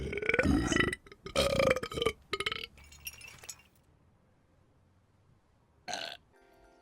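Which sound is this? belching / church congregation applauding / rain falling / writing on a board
belching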